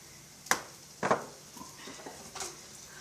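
Utensil stirring seasoned breadfruit in a pan, with a few distinct clinks and scrapes spaced about half a second to a second apart, close and fairly quiet over a low kitchen hiss.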